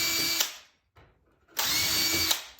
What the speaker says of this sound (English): So then it's just a matter of drilling it